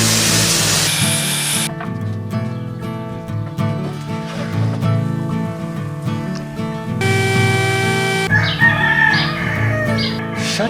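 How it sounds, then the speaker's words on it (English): Roosters crow around a rural shack, with long, harmonic calls overlapping and rising in waves, fairly loud and close, over a hissy background. "shut the heck up, you stinking roosters."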